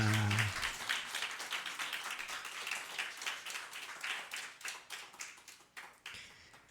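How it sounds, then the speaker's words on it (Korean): A church congregation claps together during an Easter Sunday service, a dense run of hand claps that starts loud after a brief tone and gradually thins and fades over several seconds. "우리 주님께 영광의 박수 올려드립니다."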